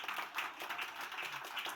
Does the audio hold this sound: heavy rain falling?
no